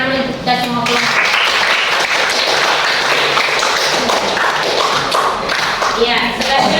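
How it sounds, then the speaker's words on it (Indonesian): A classroom group claps together in loud, close applause with scattered taps and thumps, while voices talk over it. "tepuk tangan dulu untuk kita semua kelompok"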